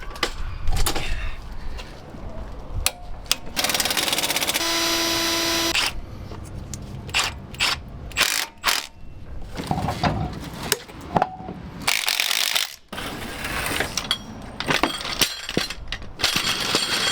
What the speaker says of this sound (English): I like to torque my axle every once in a while.